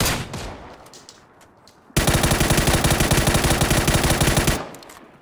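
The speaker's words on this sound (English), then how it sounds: "The team behind us is shooting at us." Sustained automatic gunfire in PUBG Mobile, a rapid rhythmic burst of shots lasting several seconds after a few scattered earlier shots, loud and close with no talking.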